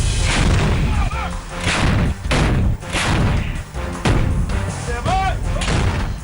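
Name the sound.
howitzer artillery firing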